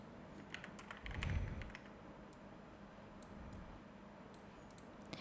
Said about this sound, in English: I'm going to then grab my text, and I'm just going to type in Eclipse here.